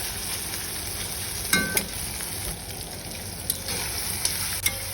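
Chopped tomato hits a hot pan of cow brain curry with a steady, loud sizzle and frying hiss, broken by a few sharp crackles and stirring clinks; no voices.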